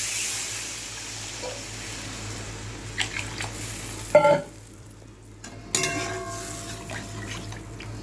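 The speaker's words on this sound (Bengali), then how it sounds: "তো মশলাটা আমার একদম কষানো কমপ্লিট। আমি জলটা দিয়ে দিলাম।" Water is poured into a pan of fully fried spice paste for a prawn and potato curry. Soft frying hiss gives way to a couple of sharp sizzling bursts, then it settles back to a quieter bubbling simmer.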